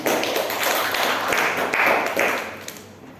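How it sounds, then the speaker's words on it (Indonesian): An audience at a youth mental health seminar breaks into sustained, dense applause for the moderator, a steady wash of many hands clapping together from start to finish, fairly loud and close. "Kita beri tepuk tangan yang meriah untuk moderator."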